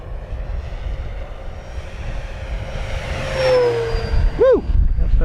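An FMS Corsair 1700mm RC warbird makes a high-speed pass down the runway, its electric motor swelling in a rising whine that peaks as it passes close and then sweeps away with a falling tone over wind noise.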